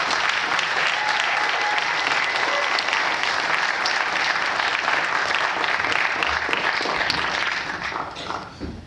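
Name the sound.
audience applause for a film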